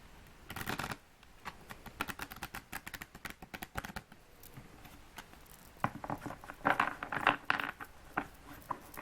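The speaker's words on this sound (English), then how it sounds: "I've got this deck that I'm going to shuffle" A deck of tarot cards is shuffled close by in repeated bursts of riffling, flapping and soft patter, with brief pauses between rounds and no talk.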